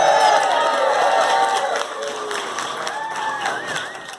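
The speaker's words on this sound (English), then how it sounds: "Give yourselves a round of applause for that." Audience applause and cheering fill a crowded Portland gala hall, steady for the first couple of seconds and then thinning out, with a few whoops and scattered voices calling over the fading clapping.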